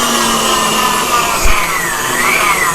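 An electric stand mixer whipping pound cake batter on high speed, a loud, steady whirring drone that holds without pause from start to finish.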